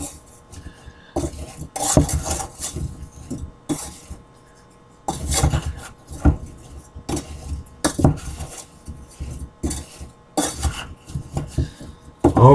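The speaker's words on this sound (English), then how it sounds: "And then stir that sugar mixture." Apples are stirred in a sugar mixture, with spoon scrapes and clinks against the pot coming in bursts separated by brief pauses, close and moderately loud.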